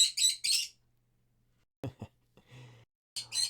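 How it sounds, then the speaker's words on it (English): Birds chirp at a feeder close to the microphone, giving a few quick, bright tweets in separate bursts with short silent gaps, over a faint low hum and occasional soft clicks. "the birds are gonna be over here. You'll hear the birds."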